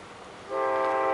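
An approaching Amtrak train at night in Fairport, New York, sounds its horn, a steady sustained blast that begins abruptly after a quiet rumble and holds loud and clear.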